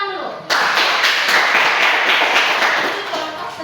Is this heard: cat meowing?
no